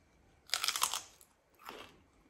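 Two crisp crunching bites of celery, the first loud and crackly, the second softer a moment later, close to the ear in a quiet room.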